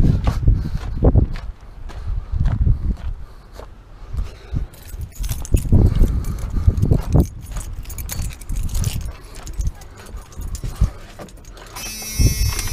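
Keys jangle and clink in short bursts while being handled before starting an OBS Ford Powerstroke diesel truck fitted with a TS 6 position chip, with some rustling and handling noise throughout and no talk.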